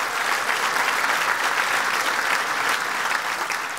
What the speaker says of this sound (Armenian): բարձր ծափար ենք